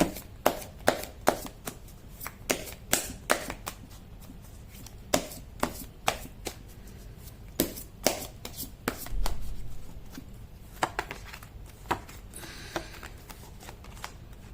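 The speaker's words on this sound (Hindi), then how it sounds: "कर लेती हूँ कार्ड की शफलिंग।" Tarot cards shuffled by hand, a quick run of crisp slaps and riffling clicks in uneven bursts, close and clear with short pauses between.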